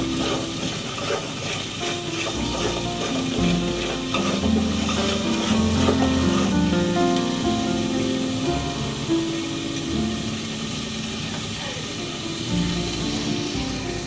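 Masala cooking in a covered pan, giving a dense, continuous sizzle and bubbling hiss with faint scraping, steady and fairly loud throughout.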